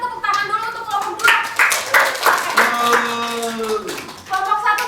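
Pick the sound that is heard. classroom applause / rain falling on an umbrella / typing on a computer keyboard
classroom applause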